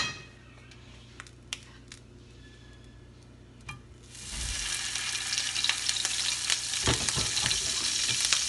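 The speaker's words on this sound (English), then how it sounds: "I'm mixing that with margarine." Olive oil and margarine heat in a frying pan for cooking shrimp: a few soft clinks, then a loud, steady sizzle starts partway through and continues with occasional stirring scrapes, with no talking.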